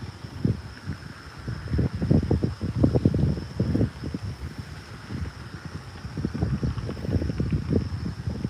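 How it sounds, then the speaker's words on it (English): Wind buffeting the microphone outdoors while bass fishing, in gusty, uneven bursts of low rumble, with a faint steady tone and occasional rustling in the background. "A little bit windy this morning."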